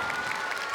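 Audience applause after a children's kindergarten fairy-tale performance at a show-contest in Navoiy, a short burst of dense, steady clapping that holds an even level throughout with no voices.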